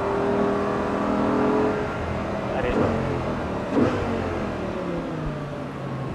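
An Audi R8 GT drives on a road track, its engine roaring loud and close with rising and falling revs and a couple of sharp surges. Someone talks over the engine noise.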